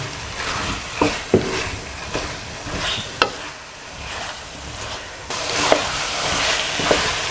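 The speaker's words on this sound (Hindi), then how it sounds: "इसको 3-4 मिनट हम भूनेंगे इस तरीके से" Potatoes and fenugreek leaves stir-frying in a pan, a loud, close sizzle broken by several sharp scrapes and clinks from stirring, no talking.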